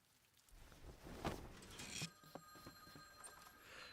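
A telephone rings in the visual novel game Mahoyo (Witch on the Holy Night), a trilling electronic bell repeating over a faint room tone, moderately loud and close, with no voices.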